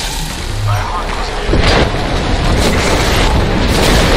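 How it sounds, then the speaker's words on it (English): Airstrike explosions rumble through a video game battle, a dense wall of deep booms that swells louder partway through and stays heavy, with voices faintly mixed in. "Airstrike."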